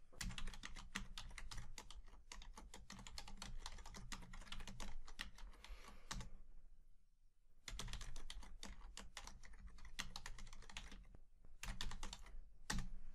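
Rapid typing on a computer keyboard while writing Python code in the IDLE editor, a dense run of close, crisp key clicks with a brief pause near the middle before the tapping resumes.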